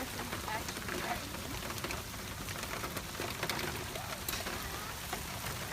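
Rain falling steadily outdoors, a dense broadband patter with scattered drop hits, continuous and moderately loud throughout, with faint voices in the background.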